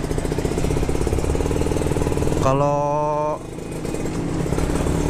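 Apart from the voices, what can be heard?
Kawasaki Ninja RR motorcycle engine running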